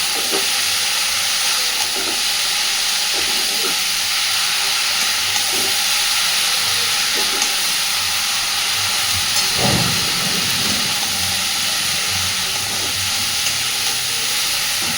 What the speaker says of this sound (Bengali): এইবার দিয়ে দিচ্ছি কেটে রাখা কুমড়ো। খুব ভালোভাবে সব কিছুকে মিশিয়ে দেব।